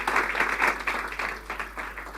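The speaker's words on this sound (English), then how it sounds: "Another round of applause for these wonderful guys, please." Sustained audience applause at a live event finale, a dense steady wash of many hands clapping throughout, fairly loud with no voices standing out.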